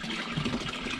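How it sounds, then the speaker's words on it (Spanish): Water runs steadily from a village fountain in Galicia, a soft continuous splashing and trickle heard close by without pause. "¿Esto emana agua constantemente?"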